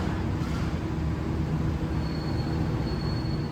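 The Gaya Baru Malam Selatan passenger train pulls out of Jombang station, a steady, close rumble of rolling wheels and carriages with a faint high squeal above it.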